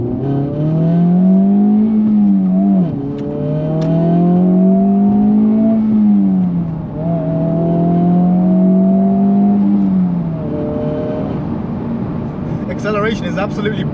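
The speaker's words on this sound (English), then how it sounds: "Acceleration is absolutely brutal in this thing." Honda Civic Type R FL5 with a manual gearbox accelerating hard on a road, the engine note climbing steadily through several gears with brief dips at each shift, loud and close from inside the cabin.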